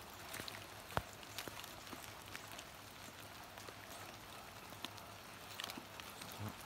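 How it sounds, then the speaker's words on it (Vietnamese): Rain falls outdoors as a faint, steady hiss with scattered soft drop ticks and patter, fairly quiet and with no talking. "trời nó đang mưa quá mọi người ơi"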